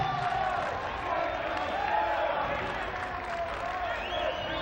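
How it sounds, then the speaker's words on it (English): A crowd at a men's college basketball game in the Siebens Center roars steadily, a dense, sustained wall of cheering and shouting that stays loud throughout. "listen to this crowd at the Siebens Center"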